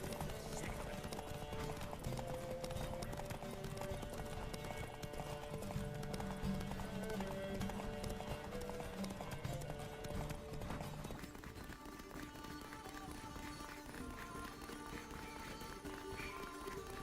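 Horse hooves gallop in The Witcher 3 video game, a fast continuous clip-clop under a dense, busy game soundscape, with a shift in the mix partway through.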